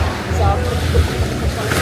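Steady ocean surf washes along the beach front at Port Barton, Palawan, a continuous low rumble of waves with some wind, while people talk over it.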